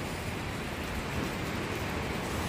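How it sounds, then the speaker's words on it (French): Water drips like rain along the rock of a cave shelter, heard as a dense, steady wash of patter with no distinct individual drops. "Vous pouvez voir, hein, le long de la roche, ça pleut."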